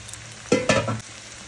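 A spatula briefly scrapes and stirs mushroom, fried chicken and egg in a hot pan, giving one short sizzling stir of under a second over faint background hum.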